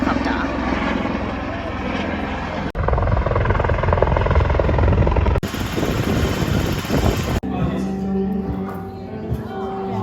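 A helicopter carrying a groom to a wedding arrives overhead, its loud, steady rotor and engine roar filling the scene, with background voices faintly mixed in.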